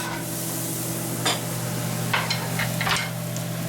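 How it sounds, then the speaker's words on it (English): Sliced garlic dropped into a hot pan for beef and vegetable soup gives a steady, loud sizzle and hiss throughout, with a few sharper crackles and stirring scrapes over a low steady hum. "the garlic has been finely sliced, and I'm just going to add it to the pan"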